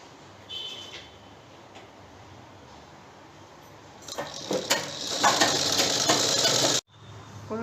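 A sewing machine stitches the seam of a circular umbrella-style palazzo pant, with a soft mechanical whir early on and then a louder, close, continuous run of stitching that stops abruptly near the end.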